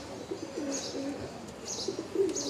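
Pigeons at a busy pigeon market, low repeated coos close by against faint background murmur and occasional higher chirps.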